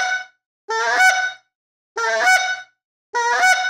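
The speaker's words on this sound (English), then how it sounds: "We're going to show you that basic honk and cluck one more time." A goose call blown hands-free sounds three loud, clear honk-and-cluck notes, evenly spaced with short silences between them, close and alone.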